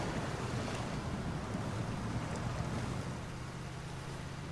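A Volvo C304 truck ploughs through mud and water in SnowRunner, a dense, rushing wash of splashing and sloshing with a low engine rumble underneath, steady throughout and without talk.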